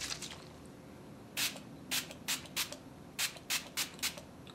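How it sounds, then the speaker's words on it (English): Wet n Wild coconut-scented makeup setting spray is spritzed close by in about eight quick, sharp hissing bursts, first one, then a cluster of three, then four more in brisk rhythm. "Don't be stingy with the setting spray."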